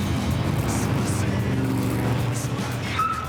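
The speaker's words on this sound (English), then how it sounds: "my custom-built 1968 2-litre dune buggy" A custom-built 1968 two-litre dune buggy drives with a steady, continuous engine drone throughout, fairly loud and close, with no speech over it.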